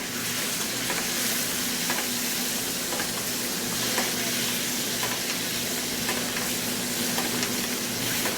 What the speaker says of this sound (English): Now we're going to add in some of our white ponzu, about 2 tablespoons, and start basting our fish